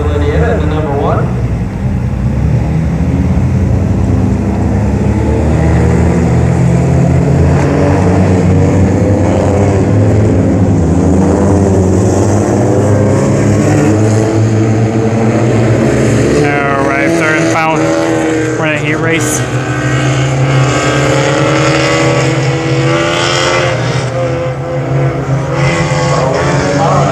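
Hornet class race cars racing at Brownstown Speedway: loud, continuous engine roar with rising and falling revs as the cars pass, and an announcer talking over it.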